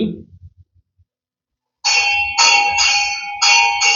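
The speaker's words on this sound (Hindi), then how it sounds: "घंटी बज गई" A bell clanging loudly and close, struck in several repeated bright rings after a brief quiet stretch, with a faint voice at the very start.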